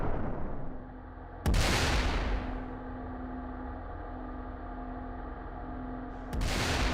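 Navy 8-megajoule railgun firing 7.1-pound projectiles, two sharp booming blasts a few seconds apart, each followed by a rumbling decay over a steady low hum.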